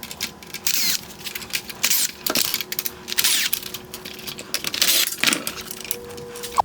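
Phillips head screws being backed out of the upper LED trim on a 2019-2020 Acura ILX OEM LED headlight, with close metallic clicks, scraping and small handling knocks from a screwdriver on the plastic housing; no speech.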